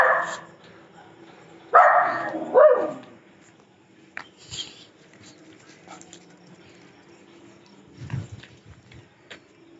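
A dog lets out a few sharp barks and whimpering yips, two louder bursts early then fainter ones later, close by in a quiet room with a little background noise.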